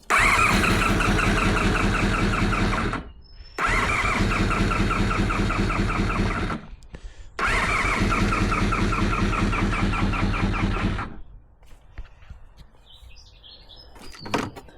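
A Honda VFR400 NC30 motorcycle engine cranks on choke in three long starter bursts separated by short pauses, loud and close, before catching and fading to a quieter rumble.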